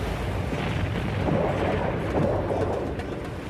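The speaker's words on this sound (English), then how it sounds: "When it blew, the eruption blasted the mountain apart." The Santorini volcano erupting sounds like a deep, continuous rumbling roar. The blast stays dense and loud throughout, swelling slightly in the middle.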